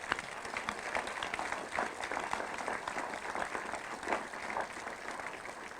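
A crowd applauds steadily at a municipal council meeting electing a mayor, many hands clapping in a dense, continuous patter that holds at an even level throughout.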